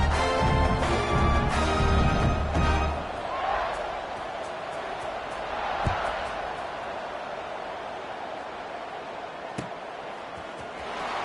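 Loud crowd noise fills a stadium at a night football game in Delaware, a steady broad roar of fans with sharper thuds and shouts rising through it and no speech over it.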